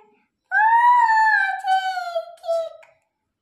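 A voice imitates a train whistle with one long, sustained, wavering tone that trails off near the end, loud and close against silence.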